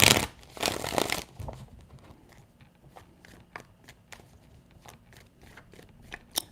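Tarot cards get shuffled in a burst of loud riffling, followed by a run of soft, evenly spaced taps and slides as the deck settles, close up with no voices.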